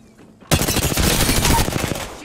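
Automatic gunfire in the Apex Legends video game erupts suddenly and continues as a loud, rapid burst of shots lasting about two seconds.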